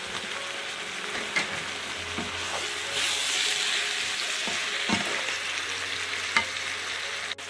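Packaged meat doner frying in a pan for doner kebab biryani, with a continuous close sizzle and occasional scraping taps from a stirring spoon.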